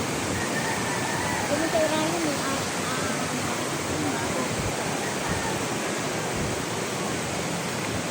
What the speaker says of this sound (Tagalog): Ito guys yung creek dito.